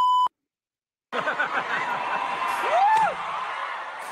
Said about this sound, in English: there were a fair amount of beeps in there